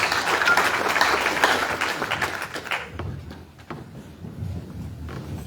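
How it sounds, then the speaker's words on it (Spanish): A church congregation claps as an offering to God, loud many-handed clapping that fades away midway, leaving scattered taps and quieter murmuring in the hall. "ofrenda de palmas a Dios"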